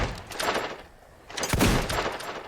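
Shots ring out in the video game Fable 2, a couple of broadband cracks about a second apart with a louder burst near the middle, over a busy game background.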